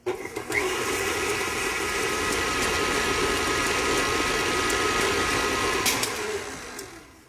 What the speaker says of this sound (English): we're going to take our 2 yolks and our vanilla and add them in and just beat it until it's nice and smooth